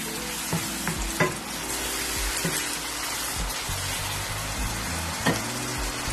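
Sliced tomatoes are stirred into beef karahi frying in a pan, giving a steady close sizzle broken by repeated scraping, clattering stirs.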